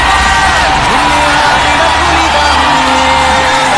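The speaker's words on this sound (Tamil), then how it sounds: "ஸ்கிரீன்ல உங்க பேரை காமிச்ச உடனே அந்த கைத்தட்டலும் விசிலும்" A packed cinema crowd greets actor Dileep's name on screen with loud, close whistles, whoops and yells over dense clapping, a continuous roar of cheering throughout.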